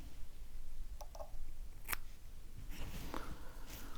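Scissors snipping cotton wick for a Sputnik MTL RTA vape coil, with a few faint, quiet close-up snips spaced apart over soft room noise.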